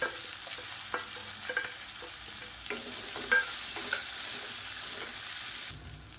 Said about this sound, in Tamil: இப்போ பொடியாக நறுக்குனா வெங்காயம் சேர்த்துக்கலாம்.